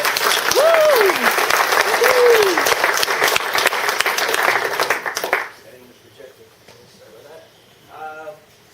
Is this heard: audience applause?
yes